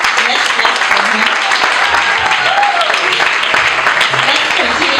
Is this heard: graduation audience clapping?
yes